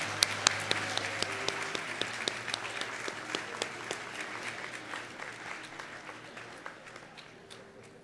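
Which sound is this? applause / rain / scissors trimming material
applause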